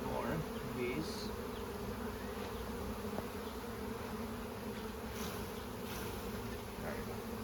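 Honey bees buzz steadily around a hive being split, a dense droning hum with individual bees passing close, no voices.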